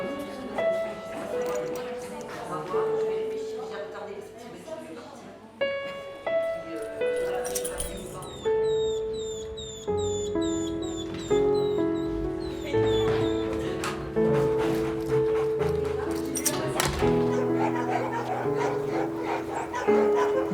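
Dogs in an animal shelter yip, whimper and give short barks, mixed with music and a narrating voice that runs over most of the scene.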